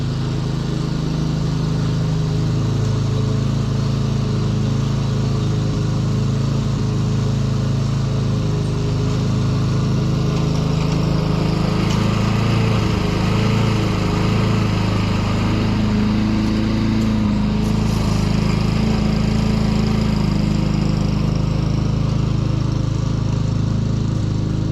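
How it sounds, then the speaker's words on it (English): A petrol lawn mower runs steadily and close by, re-mowing a lawn to sharpen the stripes, its engine drone loud and continuous throughout with no talk. "I do normally mow it again just to get the lines a bit sharper"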